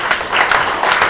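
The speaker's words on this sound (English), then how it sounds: "Give them a clap for me." Brief burst of audience applause at an evangelism, healing and miracles crusade, dense clapping from a crowd, steady and fairly loud throughout.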